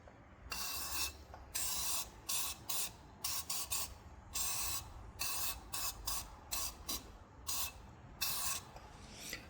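An aerosol rust protection spray is applied around a Cybertruck wheel hub in repeated short hissing bursts with brief pauses between them, close and fairly quiet.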